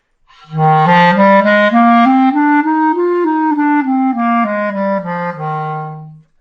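A wind instrument plays a short phrase of sustained notes in a slur, tongue, tongue, slur pattern, some smoothly slurred together and others cleanly tongued, rising then falling in pitch, solo and close.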